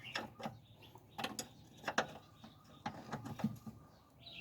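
A wrench tightening a fitting on the fuel pump of a Mazda Fighter pickup, faint close metallic clicks and ratcheting taps at an uneven pace, with a bird chirp in the background.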